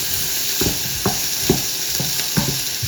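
Tomato, capsicum and onion with ginger-garlic paste fry in butter for pav bhaji, a loud close sizzle broken by four or five rhythmic scrapes of a spoon stirring through the pan.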